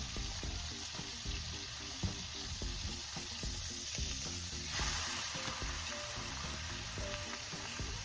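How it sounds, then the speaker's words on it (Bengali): Steady crackling sizzle of lamb ribs frying in a pan, with scattered pops and a brief louder burst partway through, no voices. "রিবটা যতক্ষণ ভাজা হচ্ছে"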